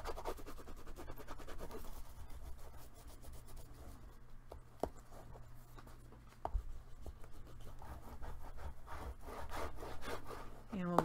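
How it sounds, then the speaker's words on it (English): Close, continuous rubbing and scratching as paper is burnished for a scrapbook album, a rhythmic dry scraping stroke after stroke with a few sharper ticks. "let's burnish that"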